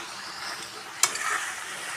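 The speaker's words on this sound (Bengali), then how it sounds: "আজকে খাসির গোশ রান্না করতেছি।" Goat meat cooks in a pan with a steady, close sizzle and fry hiss, broken by one sharp clatter of a utensil partway through.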